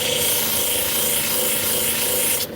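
A grinding wheel working a piece of fire obsidian, a steady abrasive rasping hiss that holds evenly and up close for the whole stretch, then drops away abruptly near the end.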